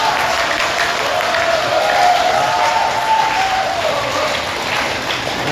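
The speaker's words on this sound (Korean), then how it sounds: "주지스님한테도 박수 한번 보내주세요." An audience at a Korean Buddhist dharma talk in a temple gives a loud, sustained round of applause for the abbot, a dense steady clapping with a little crowd murmur throughout.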